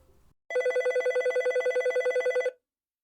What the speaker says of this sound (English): He turned to the phone on the wall, not quite believing the sound he heard.